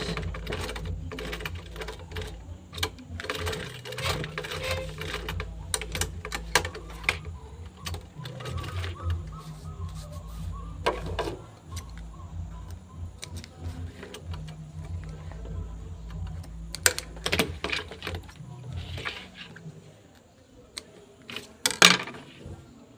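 A sewing machine backstitches a seam on a fabric bag, running in short rhythmic bursts of stitching that stop and start, with small clicks and handling noises between runs and no voices.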